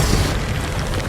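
A single deep booming blast from the Confringo spell in Hogwarts Legacy, a loud rumbling burst that fills the short moment and fades slightly.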